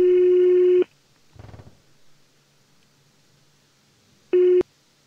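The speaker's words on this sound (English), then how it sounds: "Please pick up the phone." An in-game phone call tone in the horror video game Greyhill Incident, with a steady electronic ring-back beep lasting almost a second, a long quiet gap with a faint rustle, then a second shorter beep.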